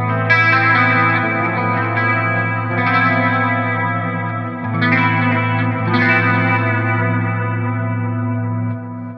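Clean electric guitar tone from a Line 6 Helix preset with chorus and echo, ringing sustained chords in several phrases, loud and close, played alone with no voices.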